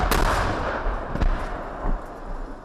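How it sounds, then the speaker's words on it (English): Gunfire and shelling in war news footage: loud, booming sharp reports in a ragged sequence over a rumbling, noisy background, with no speech. "video footage showing the exact moment when the first barrage of fire hit"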